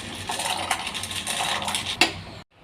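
Dry macaroni tipped into a pot of boiling water on a stove, a brief scattering clatter of hard pasta against metal with a bright rattle near the end, followed by a sudden drop to quiet.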